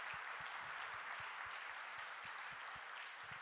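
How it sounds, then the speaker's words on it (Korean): A church congregation at a Wednesday service claps together in blessing, a dense, steady wash of applause that holds evenly for the whole stretch without letting up. "우리 박수로 한번 축복하겠습니다"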